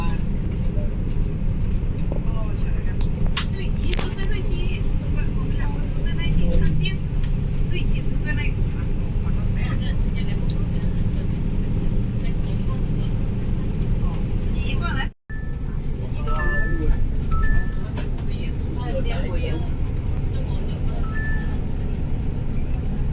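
A shuttle bus crossing the Hong Kong–Zhuhai–Macau Bridge to Macau rumbles with a steady engine drone and road noise throughout, with a brief dropout midway, while people talk over it.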